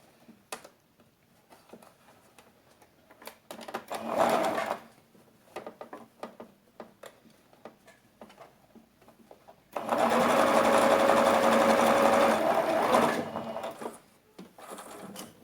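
A sewing machine stitching a lined fabric pouch, two runs of steady fast mechanical whirring, a short burst then a longer loud run, with quiet handling noises between.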